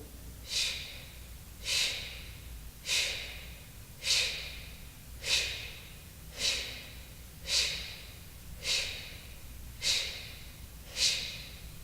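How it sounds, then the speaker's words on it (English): Kapalbhati breathing, ten rapid forceful exhalations puffed out at an even rhythm about one second apart, close and fairly soft, with no talking. "30 straight Kapalbhati breaths"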